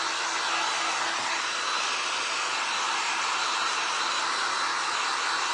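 A hair dryer blows steadily and loudly on glass to dry Deco Color Premium Gold Metallic paint pen, a continuous close roar with no breaks.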